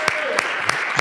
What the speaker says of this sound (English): one more round of applause for our good friends, Christian and Artem from the GA4 Dataform team